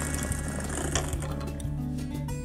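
A sewing machine bar-tacks the bottom corner of a pocket, running as a steady mechanical whir with close, rapid needle ticking throughout, no voices over it.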